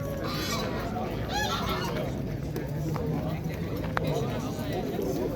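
Geese honk repeatedly among other fowl at the Eskişehir bird market, mixed with a steady hubbub of crowd chatter and nearby voices.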